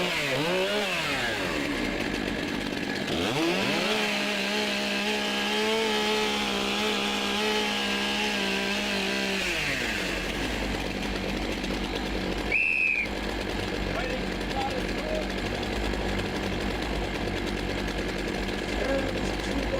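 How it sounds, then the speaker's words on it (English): STIHL chainsaws revving and warming up at a timbersports championship in New Zealand, loud rising and falling engine whines, later settling into a steady roar with a commentator talking over it. "warm up your saws"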